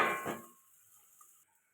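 A metal lid clangs onto a cooking pot of okra, potato and fish curry with turmeric and chilli powder, one bright close clank that rings briefly and fades into quiet.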